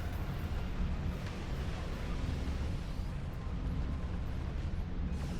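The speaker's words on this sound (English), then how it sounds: "Look at that big explosion right there." A big explosion in the space game Star Trek Online comes across as a steady, muffled roar of rumbling blasts and battle noise, fairly quiet and continuous without one sharp hit.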